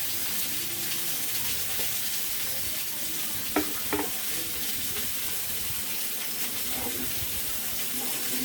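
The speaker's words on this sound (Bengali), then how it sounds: "আমি শুক্তোর জন্য যে সবজিগুলো দেবো সেগুলো আমি একটা করে ভেজে ভেজে নামিয়ে রাখছি" Vegetables for Bengali shukto fry in a pan one at a time, a faint continuous sizzle with a few light clinks of utensils.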